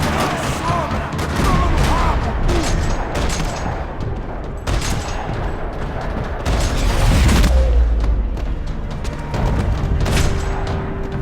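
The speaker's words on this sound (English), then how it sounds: "Another parking lot rattling with gunfire." Dense gunfire in the video game Max Payne 3 during a parking lot shootout: rattling bursts and booming shots pile up almost without pause, loud and close, over a low rumbling game score.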